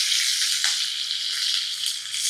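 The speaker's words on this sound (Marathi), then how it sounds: "मिरची तळून घ्यायची म्हणजे त्याची चव खूप छान लागते." Green chillies and dals crackle in hot oil for a tempering for white upma. The sizzle is close, bright and continuous, with a few small pops.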